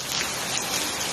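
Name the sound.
heavy rain with hail in Madhya Pradesh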